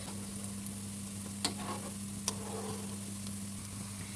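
Potato and semolina snacks frying in oil in a wok, a steady close sizzle with a couple of sharp clinks and stirring sounds, no voices.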